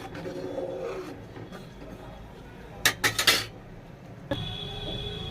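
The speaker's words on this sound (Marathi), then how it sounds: "याच्यावर थोडंसं दोन मिनटं मी झाकण ठेवून घेणार आहे" A lid set onto a pan of Marathi-style upma on the stove gives a quick cluster of metallic clinks and rattles, followed by a single sharper clank, heard close over a low steady background.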